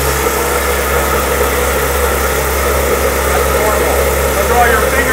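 A car idles with its Dundon Motorsports exhaust valves open, giving a loud, steady, deep rumble close by with a low hum underneath, and a voice speaks over it.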